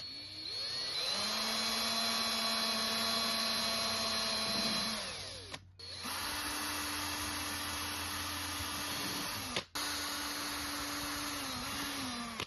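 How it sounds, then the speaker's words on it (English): A power drill whines steadily in long, loud bursts while drilling hinge holes on a gas storage box in a van, pausing briefly twice between runs, its pitch shifting slightly as it bites. "making sure that hinge stays in place while I drill all the holes"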